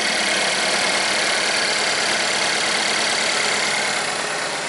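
A Chevy Equinox with P0016 and P0011 cam/crank timing codes and low power idles after starting: a steady, loud, even engine drone with a faint knocking vibration and no talk.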